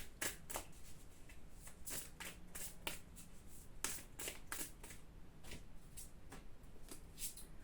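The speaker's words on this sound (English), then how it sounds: "You can shuffle and shuffle and shuffle." Oracle cards are shuffled over and over for a tarot-style reading, giving repeated crisp riffling slaps and snaps in an uneven rhythm, close and fairly quiet, with no voices.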